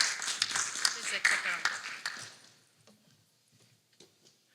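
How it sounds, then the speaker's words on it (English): An audience at a Silicon Valley tech conference claps for a speaker, with dense applause for about two seconds that fades into a few scattered, faint claps. "let's give a big round of applause for Andy"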